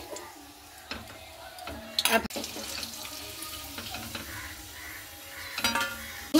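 Tomato-and-potato papads fry in hot oil in a wok with a steady sizzle and bubbling that runs throughout, broken by a few sharper crackling bursts.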